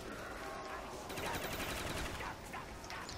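Rapid automatic gunfire in the Call of Duty Zombies map Shangri-La, a dense continuous burst of shots over about three seconds, loud and steady with game noise underneath.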